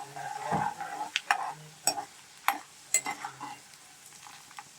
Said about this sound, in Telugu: దోరగా వేపుకోవాలండి వేరుశనగ గుళ్ళు